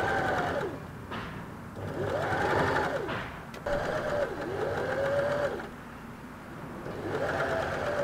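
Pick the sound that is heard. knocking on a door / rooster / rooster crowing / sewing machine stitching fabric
sewing machine stitching fabric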